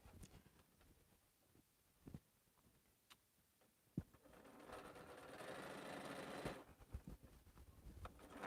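Sewing machine stitching quilt pieces: quiet ticks and clicks, then a steady mechanical whir for a couple of seconds before it stops, fairly close with no talking.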